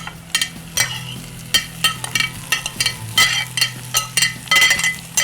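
Boiled chickpeas fry with onions in a pan, a steady sizzle broken by frequent sharp scrapes and clinks of a spoon stirring against the metal, close and loud, with no speech.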